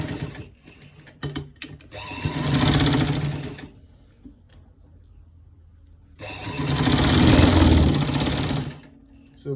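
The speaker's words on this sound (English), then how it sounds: "I'm arranging the sewing machine table, thread well. So now we are going to stitch it" A sewing machine stitches a V-neck in two sustained runs of rapid, close mechanical whirring, separated by a quieter gap with faint clicks and handling sounds.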